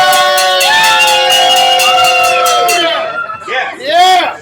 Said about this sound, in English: there's the crowd that's here every day